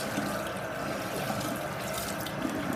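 Tap water runs steadily into a sink while a makeup brush is rinsed and scrubbed by hand beneath it, a continuous close, even splashing rush with no talk.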